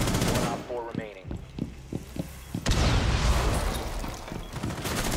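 Gunfire from Rainbow Six Siege, an opening burst followed by a string of sharp separate shots and then heavier sustained firing, loud and close, with voices talking over parts of it.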